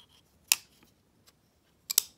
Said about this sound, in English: listen to the sound when you open the clone.